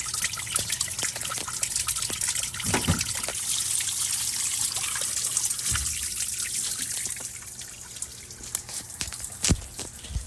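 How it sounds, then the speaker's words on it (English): Water pours and trickles out of the front of a 1985 Toyota MR2 cooling system, a steady broadband splashing stream with a few louder spurts, near and continuous for about ten seconds with no talk. "Oh, I think it's pouring out of the front."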